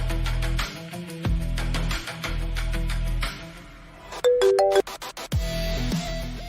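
A phone ringtone plays loudly and close, a repeating electronic melody with pulsing notes that cuts off after several seconds, with no talk over it.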